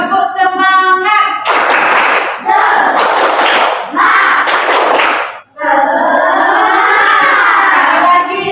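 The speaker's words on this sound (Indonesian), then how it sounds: "Tepuk semangat." Schoolchildren in a classroom doing a rhythmic clapping chant, loud group shouts alternating with bursts of claps close by, ending in a sustained chanted call.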